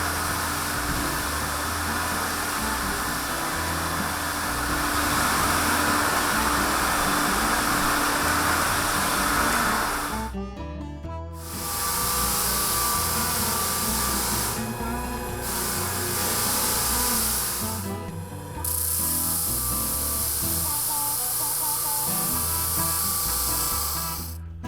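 A loud, steady floor sanding machine grinding and rubbing across a wooden floor with coarse grit, running continuously with a few brief pauses where it lifts off.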